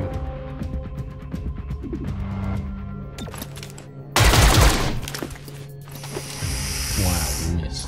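Gunfire in the video game XCOM: Chimera Squad, a loud crackling burst of shots with a sharp impact around the middle, set against a busy game soundtrack with tonal music and effects throughout.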